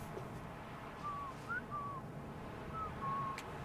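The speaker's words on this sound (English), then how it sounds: "What is with your continuous whistling?" A character in the video game Burden whistles over and over, short clear tonal phrases repeating at a moderate level above a low steady background hum.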